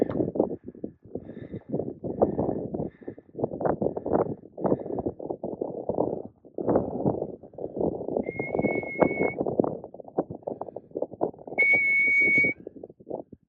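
On a mountain hiking trail, two short, clear whistled notes ring out over a steady background of rhythmic clopping and rustling, spaced several seconds apart.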